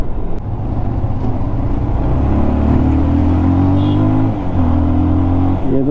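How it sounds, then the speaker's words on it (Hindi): A Bajaj Pulsar 220F motorcycle on the move, its engine note rising and falling through gear changes with wind rush, loud and close throughout, no voices. "यहाँ वाकई में कोई राइडर बाइक को चला रहा है, और बाइक भी वही है, माई बीस्ट पल्सर"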